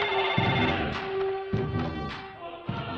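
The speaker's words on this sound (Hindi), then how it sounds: "छोटू को फोन लगाओ।" A telephone rings after a call is placed in a Hindi-dubbed South Indian action film: a loud, tonal electronic ring repeats in a steady cycle roughly every second, heard alone without talk.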